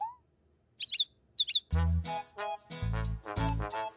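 Cartoon birds chirp in a few quick, bright bursts, then a louder musical passage with voices follows and overtakes them.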